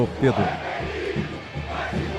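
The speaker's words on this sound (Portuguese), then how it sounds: "vamos ouvir a torcida da Ponte aí" Ponte Preta supporters chant and roar in the stands during a Campeonato Paulista match against Capivariano, a broad, distant crowd din heard under a commentator's brief spoken word.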